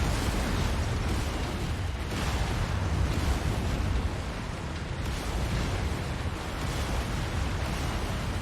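Mech weapons chain firing with explosions in MechWarrior 5: Mercenaries, a dense continuous roar of blasts and booms with a few sharper bursts standing out, loud and sustained throughout.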